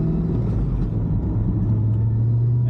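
A Chevelle running a new powertrain cruises down the road, its engine giving a steady, close, low rumble that holds even throughout, with no voices.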